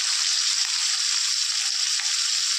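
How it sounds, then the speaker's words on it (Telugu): Keema fries in oil with tomato, a steady, dense, bright sizzle close to the pan that holds evenly for the whole stretch, with faint stirring and no speech. "ఇప్పుడు టమాటాది బాగా మగ్గాలి. తర్వాత కీమా క్లీన్ చేసి వేస్తున్నాను."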